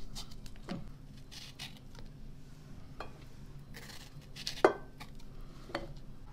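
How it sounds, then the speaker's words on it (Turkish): A knife slicing separated fruit peels in half on a board, giving soft scattered cuts and light kitchen clatter at close range, with one sharper tap near the end and no talk. "Şimdi bu ayırdığımız kabukları da ikiye kesiyorum."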